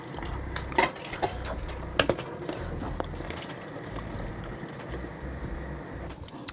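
Boiled rice being scooped out of a large pot to drain for chicken fried rice, with a few sharp metallic scrapes and clinks of the utensil against the pot over a low background rumble.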